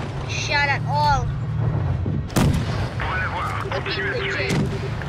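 Tank cannon shots in a video game, heavy booms partly masked by engine rumble, with people talking over them.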